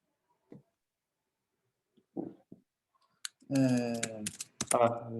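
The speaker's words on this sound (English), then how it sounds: "Now I can see that you're typing." A few sparse keyboard key clicks in near silence, followed by a person speaking close to the microphone.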